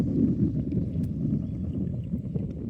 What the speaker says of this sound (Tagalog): Sa lakas ng hangin po.